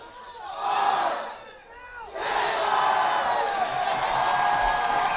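A college president leads a student section cheer at an NAIA basketball championship game. A large crowd roars in unison in two swelling chants, the second louder and sustained.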